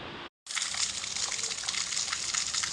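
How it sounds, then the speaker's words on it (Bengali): Heavy rainfall pours down steadily amid flooding, a dense, continuous rushing wash of water that stays loud and close after a brief cut near the start. "জল পড়েই যাচ্ছে"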